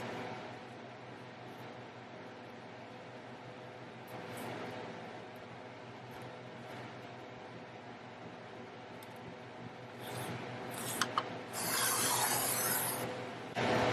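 Sublimation paper is trimmed for a tumbler, giving a steady dry scraping and rubbing texture throughout, with a louder, brighter rasping burst near the end.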